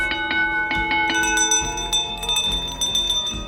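A ship's bell aboard HMS Unicorn rings with several clear metallic strikes, the bright tones ringing on and overlapping, close and fairly loud with no talking.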